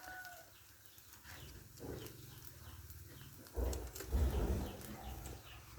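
Goats bleating at a farm, a few rough calls swelling louder toward the end over a steady outdoor background with no talking.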